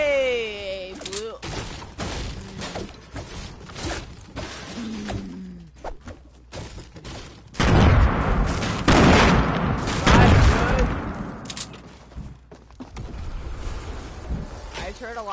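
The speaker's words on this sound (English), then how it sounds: "A lot of explosions." Gunfire and explosions from a Fortnite match with friends, dense bursts and booms peaking loudly midway, with excited talk from players over the top.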